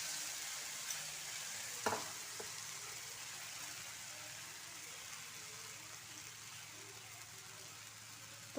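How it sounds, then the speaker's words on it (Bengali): Fish omelette batter sizzling steadily in hot oil in a pan over a low gas flame, a continuous close frying hiss with a brief ladle clink early on. "দেখো, তেল গরম হয়ে গেছে। এবার আমি ব্যাটারটা হাতায় করে দিয়ে দেবো।"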